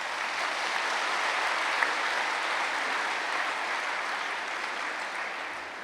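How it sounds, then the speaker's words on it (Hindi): Steady, dense applause from a large gathering of brothers and sisters at a spiritual assembly, continuous clapping at even loudness throughout with no voices over it. "उसके लिए ताली बजा रहे हैं।"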